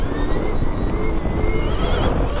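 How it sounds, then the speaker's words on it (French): A Stark Varg electric motocross bike, about 80 hp, runs with its rear wheel spinning, giving a loud, steady electric whine with rough, continuous rumble and no pauses. "Il y a tout le temps la roue arrière qui patine."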